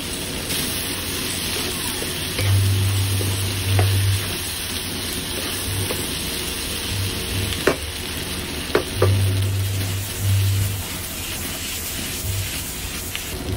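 Lechon kawali sisig stirred and frying in hot oil, a steady close sizzle with intermittent scraping stir strokes and a few sharp clinks, no talking.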